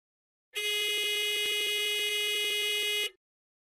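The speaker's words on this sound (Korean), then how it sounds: "선장은 선내 경보를 울린다." Ship's onboard alarm sounding: a loud continuous electronic buzzer tone rings for about two and a half seconds, then stops abruptly, with silence before and after.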